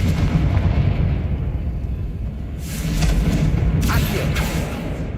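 Confringo blasting spell explosions in Hogwarts Legacy, heavy rumbling blasts over dense low game noise, with two sharper bursts near the end.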